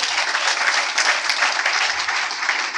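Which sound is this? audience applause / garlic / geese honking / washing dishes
audience applause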